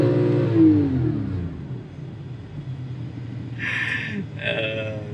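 A Porsche 911 Carrera S 997.2 engine rumbles low and steady, with a rising tonal rev early on. Brief brighter bursts follow near the end, loud and close.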